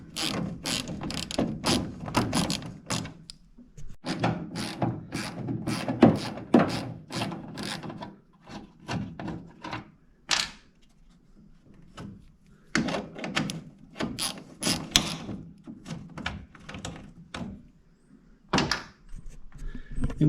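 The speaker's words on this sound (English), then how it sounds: "We'll start removing these two bolts, which are 8mm" A hand ratchet clicks in quick rhythmic bursts while removing 8mm taillight bolts on a 2008–2016 Ford F250 pickup, with close, crisp pawl clicking broken by short pauses.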